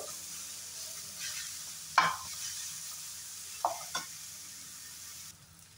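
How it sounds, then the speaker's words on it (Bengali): Vegetables stir-fried in a pan without oil, a low continuous sizzle broken by a few sharp spatula scrapes and taps, close and moderately quiet with no talking. "সবগুলো জিনিস আমি 1-2 মিনিট সুন্দর করে ফ্রাই করে নেব।"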